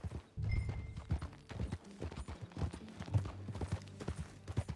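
Horse hooves clip-clop in a steady walking rhythm, fairly close, with faint background ambience and occasional low thumps, in the video game Red Dead Redemption 2.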